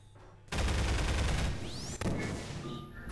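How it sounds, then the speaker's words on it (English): Half-Life guns fired in the video game Portal: a sudden loud burst of rapid gunfire that rattles for about a second, then fades, with a sharp crack and ringing metallic tones trailing after. "See, and then you can shoot the gun."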